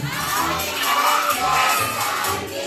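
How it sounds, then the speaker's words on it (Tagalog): A crowd of children at a seventh birthday party shout happy birthday together. Loud, excited voices rise in a couple of surging waves across a few seconds. "sabay-sabay tayo sumigaw ng happy birthday Sandy in 3, 2, 1."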